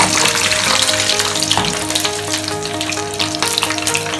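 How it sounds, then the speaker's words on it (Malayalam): Raisins fry in hot oil with a dense, continuous sizzle and a few brief stirring bursts, loud and close the whole time, with no voices. "അതിന് വേണ്ട ഓയിൽ ഇടാം, റൈസിൻസ് ഇടാം"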